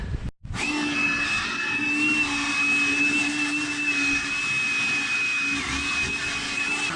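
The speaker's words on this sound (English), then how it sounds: "You get your Makita blower and you get in there and you suck all that shit out that's in there." A Makita blower run as a vacuum sucks dust out of an air filter box, starting with a brief click and then whining steadily and loudly at close range, its pitch wavering slightly as it moves, with no talk.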